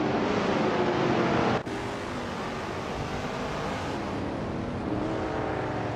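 A 1970 Chevrolet Corvette C3 ZR1 roars in a race, its engine a dense, loud, sustained drone with a sudden brief dip before it carries on steadily.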